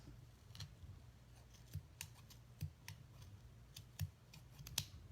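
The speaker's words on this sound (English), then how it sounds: "I don't want to get too many loops at once because it might be harder to cut." Scissors snip through yarn loops for a pom pom, making small, faint crisp clicks at irregular intervals, about half a dozen close cuts in a quiet room with no talking.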